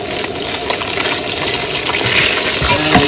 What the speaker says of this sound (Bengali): মাছ কিন্তু ভাজা হয়ে গেছে, পুরো লাল লাল করে ভাজছি,